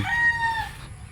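Young late-born gamefowl stags give a raised crow with clucking beneath, a single close crow trailing off within about a second amid farmyard background noise.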